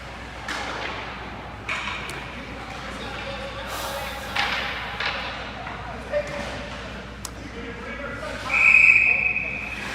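A referee's whistle blows one sharp, shrill blast near the end at a youth 16U ice hockey semifinal, cutting above the steady arena din, scattered thuds of pucks and boards, and a commentator talking.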